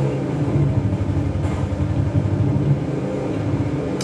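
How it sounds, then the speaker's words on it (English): A Mongoose vehicle from the Halo video game drives steadily, a continuous low engine rumble with road noise holding at constant loudness, with no talking. "then you drive your mongoose through it"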